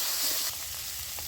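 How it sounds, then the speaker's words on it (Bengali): Onion and chili paste sizzles in hot oil in a pan, a steady, close, loud frying hiss throughout with no talking. "পেঁয়াজ আর লঙ্কা বাটাটা দিয়ে দিচ্ছি।"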